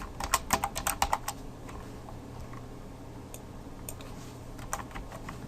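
A quick burst of keystrokes on a computer keyboard opens the clip, followed by a few scattered, faint taps in an otherwise quiet room.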